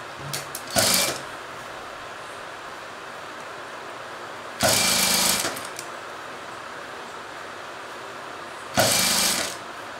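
A sewing machine stitches a cross-cut blouse in three short, loud bursts of rapid whirring, spaced several seconds apart, with a steady low background hum between them.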